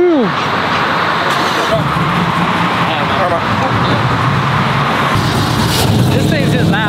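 A loud, continuous truck engine roars steadily up close, a deep rumble with road noise throughout and brief whining tones at the start.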